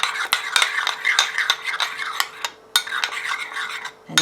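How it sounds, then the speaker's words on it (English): A spoon stirring a healthy, sugar-free dip in a bowl, with repeated scraping, rubbing strokes close up, a brief pause midway, then more brisk mixing, no talking. "Just mix it together."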